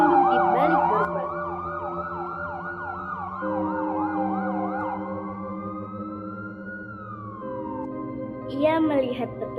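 A siren wails up and down in repeated sweeps, then holds a long rising tone over a steady engine hum, with a short burst of noise near the end.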